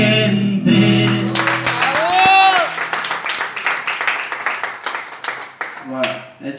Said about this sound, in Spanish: Pido aplausos para la gente.